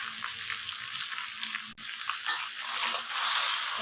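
Sliced okra sizzles briskly in a hot pan while being stirred, a bright continuous hiss close by with one short break and slight scraping swells.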